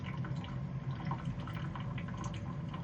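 Condensate water from a steam radiator running and dripping steadily into a bucket, a continuous close trickle with faint splashes and no talk.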